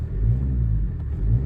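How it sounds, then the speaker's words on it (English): A 2011 Toyota RAV4 with the 2.2 D-CAT diesel engine and automatic gearbox idles in park, a steady low rumble with slight rises in pitch as it is given a quick rev, close by with no talking. "I'm going to give it a quick rev while we got it sat here in park."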